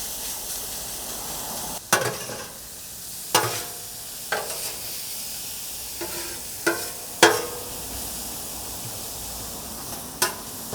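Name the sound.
smoked tri-tip steak and peppers sizzling, warming up on a griddle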